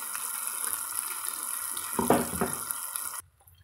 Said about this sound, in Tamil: சேர்த்திட்டு தேவையான அளவு தண்ணி சேர்த்துக்கலாங்க.